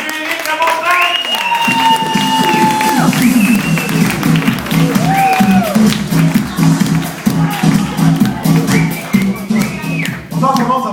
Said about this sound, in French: On commence à l'applaudir.